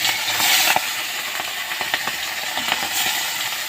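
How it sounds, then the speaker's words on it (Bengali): Chara pona fish sizzles in hot oil in a wok, a steady loud crackling hiss with occasional small pops and clinks, with no voices. "এবার মাছটা আমি ভেজে নিচ্ছি"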